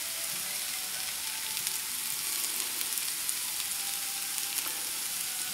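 Potatoes browning in a frying pan for Lyonnaise potatoes: a soft, even sizzle of oil holds steady throughout, with faint crackles and pops scattered through it and no voices.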